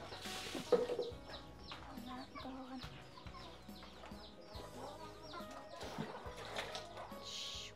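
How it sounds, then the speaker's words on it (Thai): Several chickens cluck around a rural Lao village home, soft, scattered calls at middling distance over a quiet background, with an occasional louder squawk. "ไก่ก็หลายหลาย"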